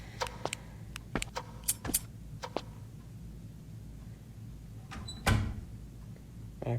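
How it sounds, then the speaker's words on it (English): In a horror video game, a door is repeatedly opened and shut in quick bursts of clicks and knocks, followed by one louder thud of it closing, heard close over a low ambient hum. "Just spam open the door"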